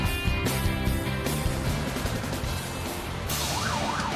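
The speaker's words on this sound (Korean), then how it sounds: "새벽 4시 소방차의 사이렌 소리가 도심의 정적을 깨운다." A fire truck siren wails loud and near at four in the morning on a city street, its tone sweeping up and down over steady traffic rumble, with no voices.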